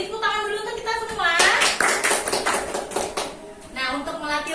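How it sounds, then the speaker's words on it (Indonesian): Classroom applause from students, a burst of clapping through the middle of the clip with talk before and after it. "Beri tepuk tangan dulu untuk kita semua."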